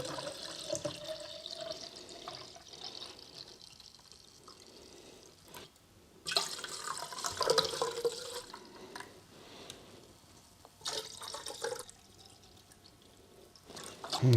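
Fresh water poured into B&W film developer solution to make it up to volume, heard as intermittent splashing, pouring bursts close by with quieter gaps between, no talking.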